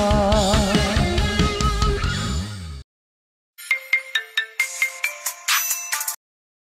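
A phone rings with an incoming call: a melodic ringtone plays loudly, cuts out for about a second, then resumes in a pulsing pattern of repeated tones.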